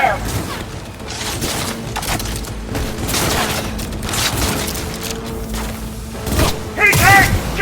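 Gunfire and explosions crack and boom repeatedly through a dense, continuous combat mix in Cyberpunk 2077, with music and voices underneath.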